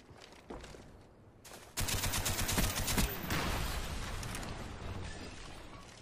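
Gunfire from Black Ops on a firing range in Gun Game mode, a few isolated shots followed by a dense, sustained rattle of rapid automatic fire that keeps going steadily to the end.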